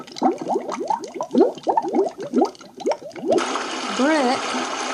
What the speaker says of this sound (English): Bubble.